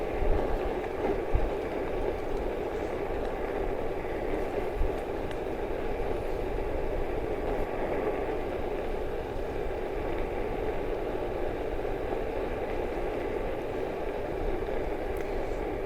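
A 25-foot Winnebago View RV on a Mercedes 3500 chassis rolls slowly through Koomer Ridge Campground, producing a steady low engine and road rumble heard from inside the cabin.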